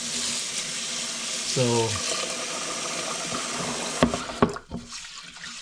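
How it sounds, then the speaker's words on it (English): Water splashes and runs while rice is rinsed in a pot to wash out starch, a steady wash with a brief rising pour and a few sharper sloshes near the end, a voice speaking briefly. "So washing it until I see clear water."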